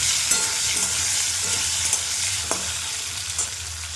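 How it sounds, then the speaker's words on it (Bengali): Potatoes frying in oil in a pan for a jackfruit and prawn dish, a steady close sizzle with a few light spatula scrapes and no talking. "আলুটা ভেজে নিলাম।"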